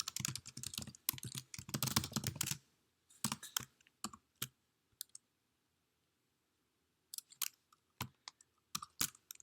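Code typed on a computer keyboard in bursts of quick, close key clicks with pauses between runs, moderately loud and alone with no talking.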